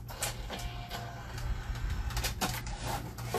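Thick embossing folder being cranked through a die-cutting machine, giving a steady mechanical grinding rumble with uneven creaks and clunks, close and moderately loud, with no talking.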